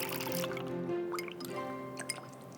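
Water being poured into a sauce of soy sauce, sugar and chili oil while cooking Hong Kong style food, a soft trickling and dripping with faint ringing tones, quiet and close.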